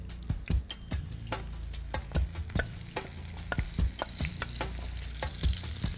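Chicken masala paste for Kashmir chicken fry sizzles steadily in a hot pan while a spoon scrapes and stirs it in repeated sharp strokes, close and fairly loud, with no talking.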